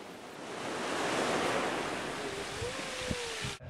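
Sea waves break and wash on the south coast of England in Dorset, a steady loud surf roar that swells and slowly fades, heard close with no talk.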